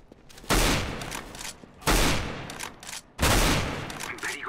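Three bursts of rapid gunfire from Counter-Strike: Global Offensive on Xbox, each a loud sustained spray lasting about a second, spaced evenly apart with quieter gaps between.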